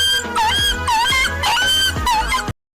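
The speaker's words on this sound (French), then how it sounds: "on entend Ketu très clairement battre son chien violemment" A dog being beaten violently, letting out a rapid series of loud, high-pitched yelps and squeals, close and distressed, before the sound cuts off abruptly.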